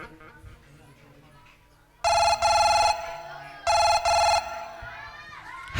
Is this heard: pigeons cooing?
no